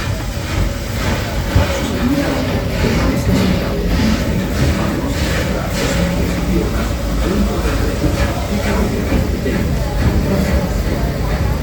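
A Disneyland Railroad train pulled by steam locomotive No. 1 C. K. Holliday rolls along with a continuous rumbling, rhythmic rail clatter underneath, while a voice speaks over a loudspeaker.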